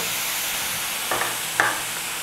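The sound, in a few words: stirring grated coconut and jaggery in a pan over low heat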